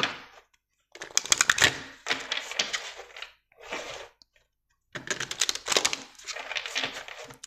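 Tarot cards being shuffled and drawn, crisp papery riffling and flicking in several close bursts separated by short silences.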